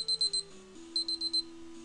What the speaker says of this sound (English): My timer's going off